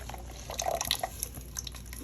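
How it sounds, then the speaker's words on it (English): Blended green plantain mixed with water is poured back into a pot of cooking porridge, giving quiet wet splashes and drips in an irregular trickle, with no talking. "So now you're pouring this back into it."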